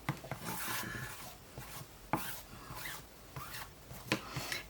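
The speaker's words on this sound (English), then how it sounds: "We're going to use my bone folder." A bone folder rubs firmly along paper edges in a few slow, dry scraping strokes, close and fairly quiet, with short pauses between passes.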